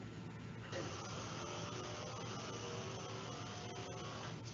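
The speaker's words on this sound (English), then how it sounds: "we have what we call Victory, and it's a spray that it dries about 10 minutes" Victory disinfectant spray misted over classroom desks and chairs, a faint continuous hiss that starts abruptly and runs steadily without pause, with no talking.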